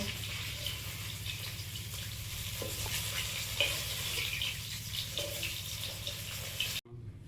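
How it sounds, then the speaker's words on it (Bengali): River fish sizzling in hot oil, a constant crackling hiss with a low hum beneath, cut off abruptly near the end. "মাছগুলো ভাজা হয়েছে, তুলে নেব।"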